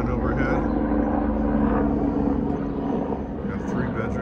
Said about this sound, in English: with helicopters flying overhead